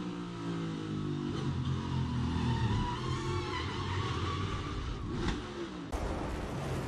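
Onboard a NASCAR Cup Series race car driven by Michael McDowell on the Watkins Glen road course, the engine roars loud and constant, with a downshift under heavy braking and a sharp change late on.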